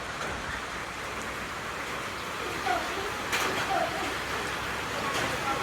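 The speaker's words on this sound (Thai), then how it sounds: "ฝนตกแรงมากเลยช่วงนี้นะ" Heavy rain pours in a steady, dense hiss with scattered drops pattering on surfaces, continuous throughout, with faint voices talking underneath.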